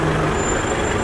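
A heavy vehicle rumbles close behind a crowd outside a house in a brief burst of loud engine and road noise, with a faint high hiss.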